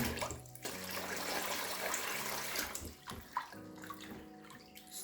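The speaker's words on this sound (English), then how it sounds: "just pour a generous quantity of water." Water pours steadily into a pot of Nigerian stone rice with a full, rushing splash, briefly pausing and then resuming with gurgling and clinking.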